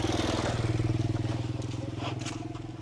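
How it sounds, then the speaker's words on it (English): Motorbike driven by a young man rolling past a village house in the Philippines, its engine putting out a strong pulsing throb that is loud at first and eases as it moves away. "Nice motorbike."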